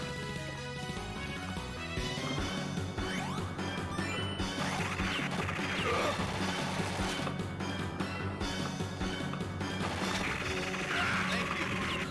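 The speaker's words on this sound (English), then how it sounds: "Heavy machine gun." A heavy machine gun fires continuously in a retro video game, a dense, loud, unbroken clatter of rapid shots over a busy game soundtrack for about twelve seconds.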